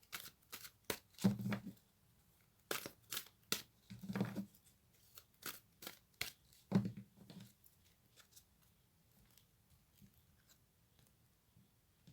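Astrological oracle cards shuffled and handled close up, quick papery riffles and flicks in several short bursts, then quieter slides and taps as the deck is laid out.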